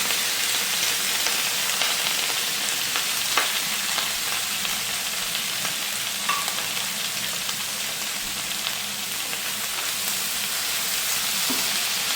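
Noodles go into cabbage frying in a pan, giving a continuous, even sizzle close by with light stirring scrapes and no talking.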